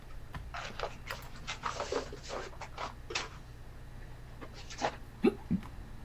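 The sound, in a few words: hiccups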